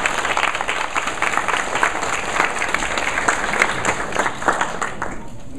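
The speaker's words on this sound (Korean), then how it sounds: "여러분 큰 박수로 환영해 주시기 바랍니다" An audience claps steadily in a dense, continuous round of applause that fades slightly near the end.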